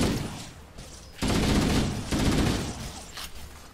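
Rapid automatic gunfire in Halo: Combat Evolved Anniversary, loud sustained bursts of shooting with short gaps between volleys, no talk over it.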